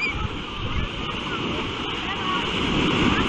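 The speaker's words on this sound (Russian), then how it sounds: "Вкратце, видите, волны небольшие совсем." Small sea waves wash gently onto the beach at Anapa, a soft, steady surf hiss with light wind noise, while someone talks over it.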